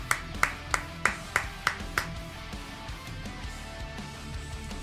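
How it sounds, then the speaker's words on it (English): A handful of sharp, evenly spaced claps ring out close by, about six in quick succession, then fade into a low background hum with no talking. "Round of applause for you guys."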